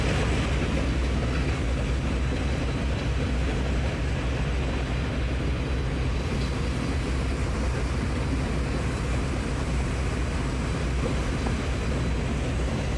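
Engines of the river launch Adventure-9, a 3200 horsepower engine and an 1800 horsepower engine driving propellers, give a steady, loud, unbroken low rumble and drone throughout, with no talk.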